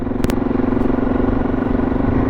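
Motorcycle engines idle steadily while warming up at a bush camp in the scrub on a Cairns to Cape York ride, with a continuous near, even rumble and a brief clatter early on.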